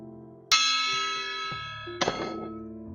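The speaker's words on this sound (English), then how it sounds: "I send that to you guys with this gong from me to you." A single gong strike rings out with a sharp onset and a long shimmering decay, followed by a second metallic clang a moment later, close and loud with no talk.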